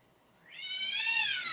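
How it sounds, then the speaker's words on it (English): Stray cats outdoors let out a single rising, drawn-out yowl that starts faintly and swells into a loud, sustained cry lasting about a second, with no talking. "pray you guys don't hear the damn cats fighting."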